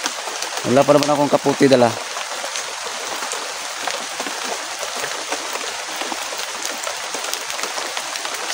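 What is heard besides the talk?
heavy rain falling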